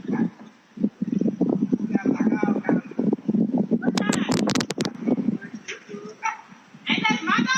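A white French bulldog named Pepper whimpers and gives short yips and barks, close and insistent, while a person talks over it.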